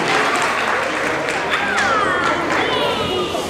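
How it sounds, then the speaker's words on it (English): An audience at a Jain center celebration claps after a team Jeopardy quiz, steady and full applause that continues throughout. "once again, a big round of applause for everybody"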